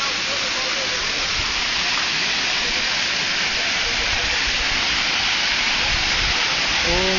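Waterfall on a trail to the falls of a motorized infantry battalion, a steady broadband rushing roar that fills the whole clip at close range, with faint voices near the end.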